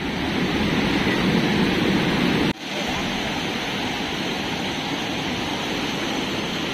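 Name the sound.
strong, dangerous mountain river current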